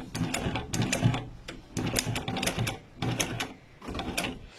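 A sewing machine stitches a leather seat cover for a camper van, running in three or four quick, rapid-fire bursts separated by short pauses, close and fairly quiet with no voices.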